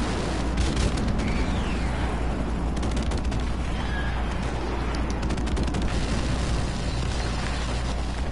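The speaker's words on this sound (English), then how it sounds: "Friendly airstrike on the way." Continuous heavy rumble of airstrike explosions in Call of Duty Modern Warfare (2019), dense booms and gunfire-like crackle layered throughout, loud and sustained with no talk.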